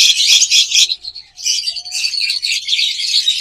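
Violet mask lovebirds, a pair kept for sale, chirp in bursts of bright, high tweets, dense and close, with a brief pause before the chatter resumes.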